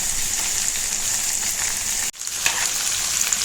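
Pieces of drumstick (moringa pod) frying in a pan as steady, close crackling sizzle for a Telugu pickle recipe, broken by a brief dip in the middle before the hiss resumes.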